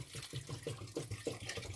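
Water pours from a tap into a coffee pot for two cups of coffee, a quiet gurgling stream with rhythmic splashes.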